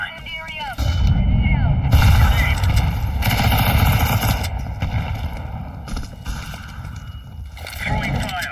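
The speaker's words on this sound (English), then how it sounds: "Deploying flashbang." Counter-Strike 2 match with a loud booming bang and heavy rumbling gunfire and explosions, with a player's voice speaking over the chaotic combat noise.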